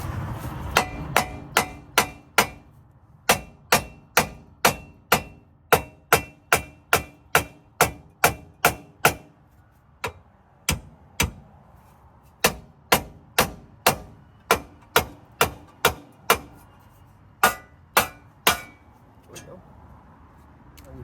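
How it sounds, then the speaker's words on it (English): Repeated sharp hammer strikes on the steering knuckle of an Acura TSX to pop the outer tie rod loose, over twenty loud metallic blows in quick bursts with brief pauses, close up. "we're gonna go ahead and hammer here to pop the outer tie rod out of the nut."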